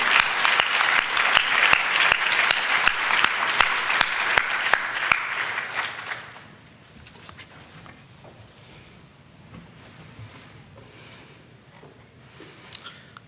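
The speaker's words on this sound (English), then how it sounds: "a round of applause for Martijn Schumi and Mark Suchard" Audience applause at a research symposium closing session, a loud burst of many hands clapping for about six seconds, then fading to a quiet room with scattered small noises.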